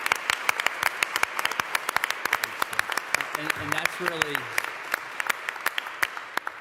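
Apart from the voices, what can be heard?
applause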